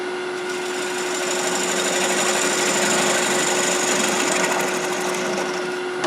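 A wood lathe spins at around 700 rpm while a half-inch V-gouge hollows a live-edge cherry bowl, giving a continuous loud whine with a steady hum and gritty cutting texture throughout.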